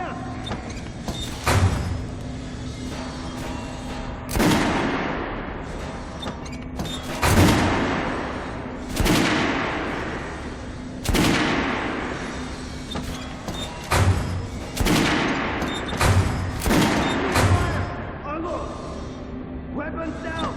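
Volleys of rifle fire from a firing squad in Metro: Last Light, several loud sharp cracks spaced a few seconds apart with ringing decay, over a continuous low hum and shouted commands between shots.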